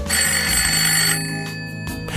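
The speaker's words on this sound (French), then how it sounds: "Le téléphone sonne" A telephone bell rings in a steady, insistent trill over a soft background tone, loud and close, continuing unbroken before easing slightly toward the end.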